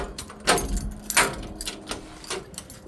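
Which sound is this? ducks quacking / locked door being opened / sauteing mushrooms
locked door being opened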